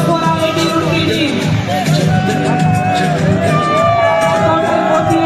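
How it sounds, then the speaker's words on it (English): A large crowd at an inter-IIT sports meet closing ceremony cheers and whoops for the IIT Roorkee team, a loud continuous roar of voices with scattered shouts. "Please make some noise. Round of applause for IIT Roorkee team."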